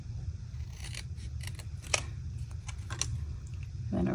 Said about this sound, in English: just going to trim it out.